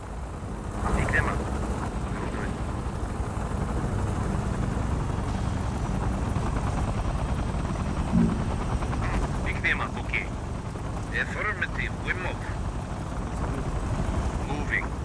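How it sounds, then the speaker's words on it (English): Blackfoot helicopter gunships in the war game Tom Clancy's EndWar, a steady rotor drone running throughout beneath game voices and radio chatter, with scattered higher bursts of battlefield noise. "Eyes on Blackfoot gunships."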